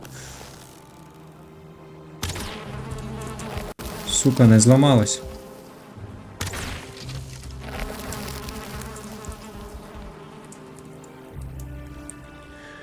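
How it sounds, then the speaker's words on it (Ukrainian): Bees buzz around a beehive in Valheim, a steady drone under game sounds with a louder burst of buzzing midway, while someone speaks briefly. "Бджоли, бджоли, бджоли, бджоли,"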